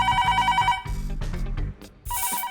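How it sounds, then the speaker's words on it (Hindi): A telephone rings in a bright, rapid trill, loud and close, breaking off and then starting again, with background music underneath and no voices. "क्यों बार बार बज रहे हो? देख नहीं रहे हो यहाँ कोई फोन रिसीव करने के लिए नहीं है?"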